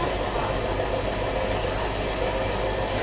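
A crowded passenger train travelling through Turkey rolls along, a steady, fairly quiet interior rumble and rattle with no clear voices.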